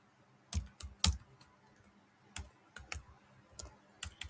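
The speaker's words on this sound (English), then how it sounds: "I'm literally typing this out" Typing on a computer keyboard in quiet surroundings: scattered, irregular clicks and a few sharper key strikes, close and fairly soft, with no talking.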